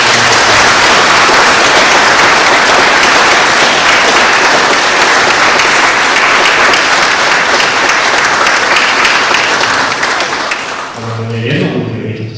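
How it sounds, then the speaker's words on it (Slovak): A concert audience applauds a choir at a Christmas concert in Uhrovec. The clapping is loud, dense and sustained, then fades after about ten seconds into a few scattered claps and a brief voice. "ešte veľký potlesk pre nich"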